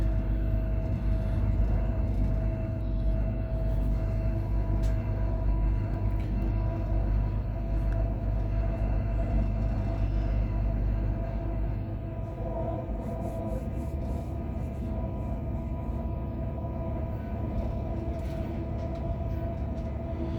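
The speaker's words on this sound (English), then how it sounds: "It's still a good train journey." Inside a moving Class 185 diesel multiple unit, 185110, a steady deep rumble and rolling hum of the carriage continues throughout, easing slightly partway through, with no voices.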